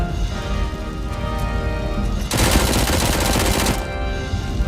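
Rapid micro SMG fire in the shooter game Robocop: Rogue City, a dense, loud burst of automatic shots that intensifies midway, layered over music and other game sound.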